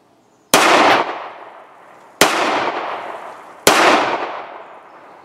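A Spanish Astra Mod.600/43 blowback pistol in 9mm Luger fires three sharp, loud shots, spaced well apart, each with a decaying echo tail.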